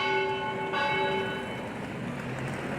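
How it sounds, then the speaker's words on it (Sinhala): A commemorative bell rings out at a memorial for an attack, its sustained tone fading slowly over a steady background hum, with no voices. "පෙරවරු 8:45 ප්‍රහාරය අනුස්මරණය කරමින් සීනුව නාද කෙරෙනු අතර"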